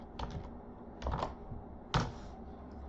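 Typing on a computer keyboard in three short bursts of quick, close key clicks separated by brief pauses, with no talking.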